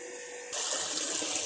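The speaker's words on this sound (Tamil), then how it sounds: "இதுக்கு வந்து தண்ணி வந்து பக்கெட்டில் தான் எடுக்கணும். அதுக்காக இங்கே ஒரு டேப் ஒன்று இருக்குது." Water gushes from a tap into a bucket, starting abruptly after a quiet hiss and then pouring steadily and loudly, with no talking.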